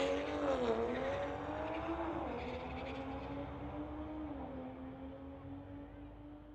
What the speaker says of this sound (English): we've got Frank Sandrin from Port Coquitlam in his 2020 Tesla M3. Going against the Supra on the pit side.